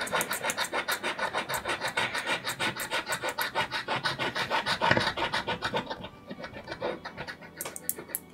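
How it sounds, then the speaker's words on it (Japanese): A scratch-off lottery card is scraped in fast, steady back-and-forth strokes, close and fairly loud, for about six seconds, then the scratching turns lighter and sparser. "で、ちょっと試しにね、削ってみますね。"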